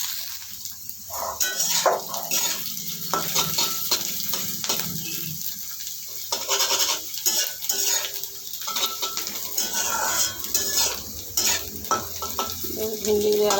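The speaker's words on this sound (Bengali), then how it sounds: "ভেন্ডিগুলো আলাদা করে ভেজে দিলাম।" Okra (bhindi) fries in hot salted oil in a wok while a utensil stirs it, with a constant close sizzle broken by frequent metallic scrapes and clinks against the pan.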